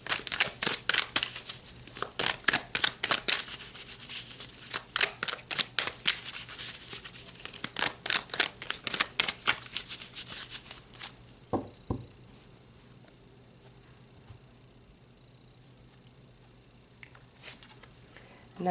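Tarot cards shuffled in quick bursts of crisp riffling and soft slapping, close and fairly loud for about eleven seconds, then a couple of taps before a quiet stretch.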